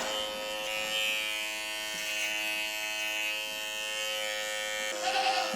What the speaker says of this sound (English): Gotta shave up the whole tail.